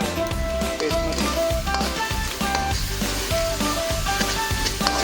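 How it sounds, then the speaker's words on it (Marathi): Coconut, sesame, poppy and melon seed paste fries in hot oil for a chicken bhuna masala, a steady close sizzle with stirring scrapes throughout and no talk. "खोबरं, तीळ, खसखस, टरबूज बी यांची तयार केलेली पेस्ट टाकणार आहोत. ती व्यवस्थित तेलातच तळून घ्यायची आहे"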